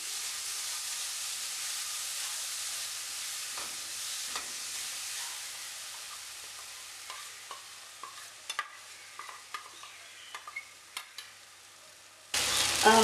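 Chili paste frying for a Kerala-style sardine curry gives a steady, fairly loud sizzle. Scattered clicks and taps of stirring come through near the end, then a sudden louder burst.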